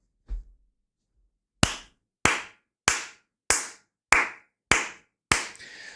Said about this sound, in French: Je dois les applaudir quand même.